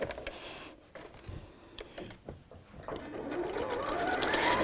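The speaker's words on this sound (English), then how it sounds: "And then sew the last one here" A domestic sewing machine stitches the seam of a pleated fabric bag, its motor whirring steadily and rising in pitch and loudness toward the end, with soft handling clicks early on.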